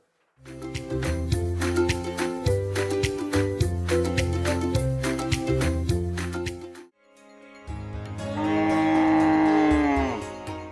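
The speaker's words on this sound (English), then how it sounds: "The Goshala is home to 100 cows and their calves." Cows at an ashram goshala housing about a hundred cows and calves, mooing in long, loud, drawn-out calls, one after another, close by and with no talk over them.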